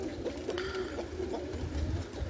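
Roller pigeons coo in a loft, soft repeated throaty calls over a low background rumble, close and moderate in level, with no talking.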